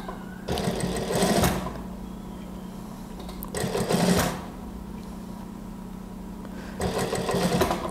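Sewing machine stitching the seam of an A-line gamis dress, running in three separate bursts of about a second each with quiet pauses between, close and fairly loud.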